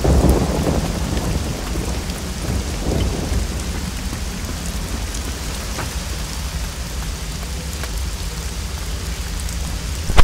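A thunderstorm in the video game Risen 2: Dark Waters, with heavy rain pattering steadily on surfaces and loud rolls of thunder that swell early on before easing into continuous downpour.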